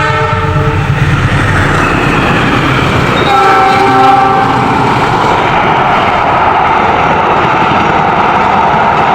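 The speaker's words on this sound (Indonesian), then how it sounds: "keras banget cuy ketika kereta masuk terowongan cuy" A loud train horn blares with sustained tones, then the roar of the train rushing into a tunnel takes over, heavy and close, in Indonesia.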